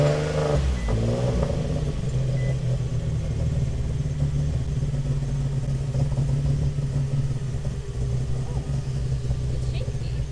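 An Infiniti G35 fitted with new spark plugs cranks and catches, then settles into a continuous close idle with a low rumble and faint clatter, running somewhat unevenly throughout.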